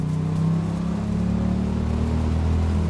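A 1965 Chevrolet Corvair Corsa Fitch Sprint driving in second gear on a farm road, a steady low engine drone with road rumble heard from inside the car, loud and continuous with no talk.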